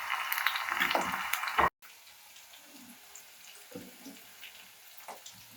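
Water splashes and trickles from boiled bitter gourd being squeezed by hand, loud and close at first, then stopping abruptly and giving way to quieter scattered drips and small kitchen sounds.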